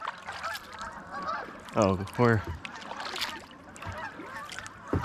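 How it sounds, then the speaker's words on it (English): A flock of geese flushes from public hunting land on water, several loud honks bursting close by in the middle, with more scattered calls and a person talking briefly over the outdoor background. "Next time we're out here, we can kill geese. I just kicked up a few of them."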